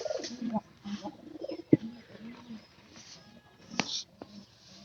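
Domestic pigeons cooing at close range, a series of low, throaty coos in short phrases with pauses between them, plus a sharp knock partway through.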